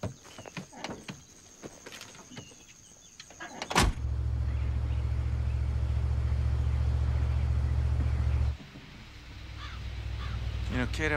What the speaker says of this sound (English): Virgil, my bus is here.